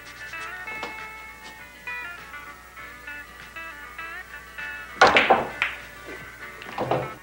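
Pool balls struck during a bar game of pool, two sharp clacks with a quick rattle arriving late after a quiet stretch of faint room tone.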